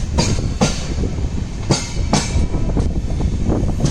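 Dadar Tirunelveli Express rolling along the Konkan railway in the rain, carriages rumbling steadily with rhythmic clickety-clack wheel beats on the rails, heard from onboard.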